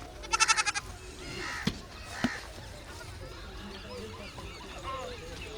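Goat bleating in a rural village setting: a rapid burst of several quavering bleats at the start, then two short sharp calls, all against background chatter and ambient noise.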